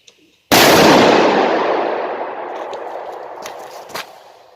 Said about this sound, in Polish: Jest to Achtung XXL, ostatnia petarda. Idziemy ją teraz odpalić.